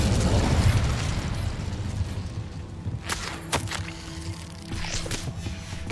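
An Incendio fire spell cast in a wizard video game erupts in a loud burst of roaring flame, followed by a few sharp pops and crackles as it dies down into a steady rumbling background.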